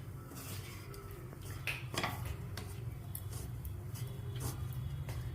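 Mango tamarind rice being stirred in a pot, faint repeated scrapes and clinks of a metal spoon against the vessel, quiet and close with no talking.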